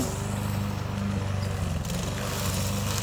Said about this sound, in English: he's mowing down where he's gonna be putting the fence posts